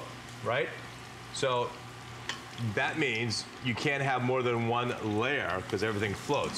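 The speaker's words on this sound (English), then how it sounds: "You can see it, and this sizzle sound you hear right now" Beer-batter tempura frying in hot oil in a ceramic wok gives a steady sizzle that runs under continuous talk from a man through the whole stretch.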